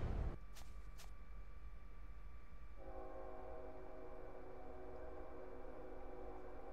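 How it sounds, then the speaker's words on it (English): A train passes close by outdoors at night, a steady loud rumble with a drawn-out horn blast and squealing tonal rail noise running through the whole stretch, no talk over it. "but the fucking train fucked that up"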